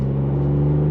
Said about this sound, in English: that exhaust sounds insane